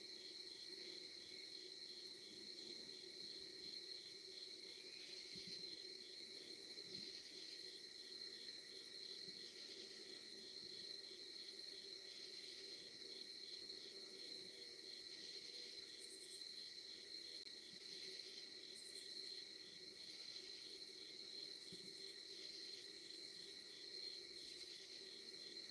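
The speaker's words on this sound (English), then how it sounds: "Yeah, I like bug sounds." Crickets and other insects chirp in a steady, dense chorus, continuous and fairly faint throughout, with no voices.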